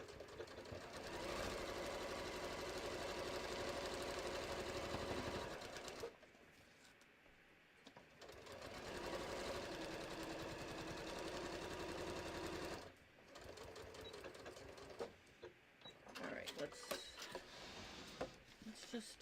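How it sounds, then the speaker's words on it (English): A domestic sewing machine stitches a fabric bucket hat in two long continuous runs, separated by a quiet pause, followed by short intermittent bursts of stitching and handling. "I'm sewing along this line number, along the number 7."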